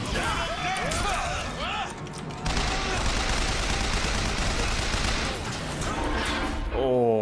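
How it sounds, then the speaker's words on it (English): Loud, chaotic gunfire and a blast as a rocket strikes the player in the shooter BioShock Infinite, a sustained crashing roar with bursts and an excited voice talking over it. "I just took a rocket in the face"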